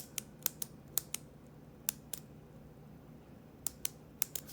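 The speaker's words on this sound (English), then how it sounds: "This is the Ballograf Epoca P. And this pen just has a weird click." Sharp, bright clicks from a Ballograf Epoca P pen mechanism, an uneven string of single and paired snaps spaced over a few seconds, close and crisp against a quiet background.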